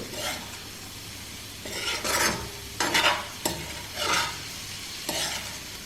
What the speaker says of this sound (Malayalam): പതിയെ വേണം ഇളക്കാൻ, പൊടിഞ്ഞ് പോകാതെ സൂക്ഷിച്ചിറക്കി